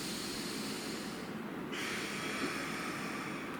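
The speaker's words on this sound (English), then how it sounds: "breathe in." A person draws in deep, slow breaths during a breathing exercise, the inhale a steady airy rush that swells partway through and holds near and alone, with no talk over it.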